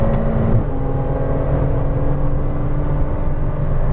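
A Porsche Cayman R engine pulls hard on a racetrack, a loud, steady in-car drone that climbs after an upshift and holds a strong, even roar throughout.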